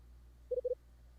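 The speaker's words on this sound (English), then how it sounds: "It's the phone." A telephone rings twice in quick succession in the Last Window: The Secret of Cape West video game, two short electronic tones, clean and fairly faint against a quiet background.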